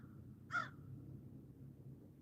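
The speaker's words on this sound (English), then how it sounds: "The birds are talking." A single crow caws once outdoors, a short harsh call at moderate distance over a low, steady background rumble.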